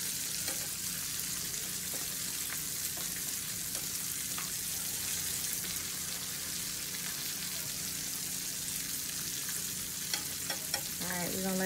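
Sweet potato burgers frying in a pan give a steady, even sizzle that holds without a break, close and moderately loud, with a few faint clicks near the end.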